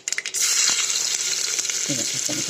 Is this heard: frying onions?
yes